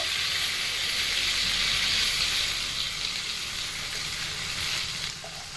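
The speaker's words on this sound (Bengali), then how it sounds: "এই সমস্ত মশলা দিয়ে খুব ভালো করে মশলাগুলোকে একসাথে কষিয়ে নেব" A ground spice paste of ginger, cumin and dried chilli with salt and turmeric sizzles steadily in a pan, a dense, even frying hiss that holds close and loud before easing slightly at the end, with no voices.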